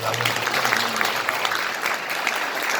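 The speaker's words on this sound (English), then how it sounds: "Let's give him a round of applause, please." An audience at a health care system's annual community meeting applauds a doctor, with dense steady clapping throughout the short stretch and a voice briefly heard at the start.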